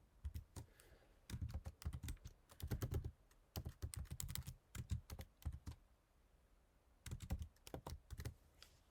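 Fingers tap steadily on a computer keyboard in quick bursts with short pauses between them. The clicks are close, and no one speaks.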